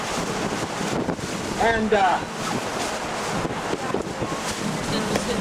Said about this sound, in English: I guess the weathermen were correct about the wind today